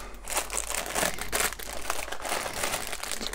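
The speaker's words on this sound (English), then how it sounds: "And then loads and loads of little plastic bags." Little plastic bags from a Flyhawk 1/700 HMS Formidable model kit crinkle and rustle continuously at close range, with irregular crisp crackling bursts and no talking.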